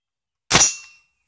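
A single sharp, loud gunshot from a new AR-15 rifle cracks out alone after silence and rings down over about half a second, followed by quiet.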